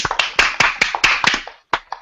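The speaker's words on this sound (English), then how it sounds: "we gotta get some golf clap going on right there" A sparse, deliberately quiet golf clap from a few podcast hosts: a handful of light, uneven hand claps close to the mic, trailing off with a brief pause and two final claps.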